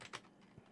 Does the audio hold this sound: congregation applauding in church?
no